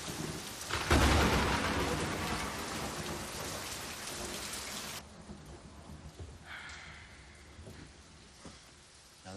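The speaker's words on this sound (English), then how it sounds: "Get out of the rain, kid." Heavy rain pours down with rumbling thunder, loud and dense for the first half before easing to a steadier, softer downpour with scattered drips and a brief higher hiss.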